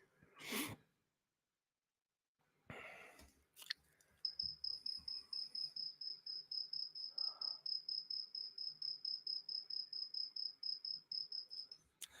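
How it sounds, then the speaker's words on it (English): A cricket chirps in a steady, rapid pulsing trill, fairly faint, following a few brief knocks and rustles. "the silent cricket sound"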